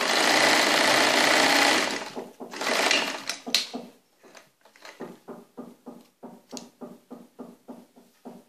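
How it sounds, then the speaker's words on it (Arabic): A sewing machine stitches abaya fabric, first in a long continuous whirring run, then in short, evenly spaced bursts of stitching, close up with no talking. "دابا غادي نخيط الجهه الثانيه بنفس الطريقه"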